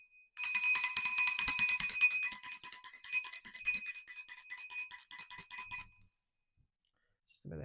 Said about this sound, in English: now we're going to use my mom's bell